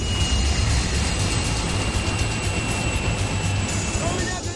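A T-72 tank engine roars steadily at speed, not at full throttle, a loud continuous drone with rumbling low end and track noise throughout, close and constant.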